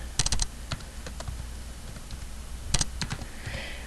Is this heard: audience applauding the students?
no